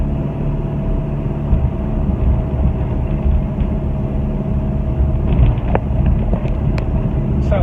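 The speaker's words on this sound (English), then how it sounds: "It sounds quite meaty. I think it's got a slightly aftermarket exhaust on it." A 1970s Austin Mini Cooper S Mark 3 with front discs, servo brakes and an aftermarket exhaust drives at around 40 mph, giving a steady meaty engine drone heard from inside the car with some road and wind noise.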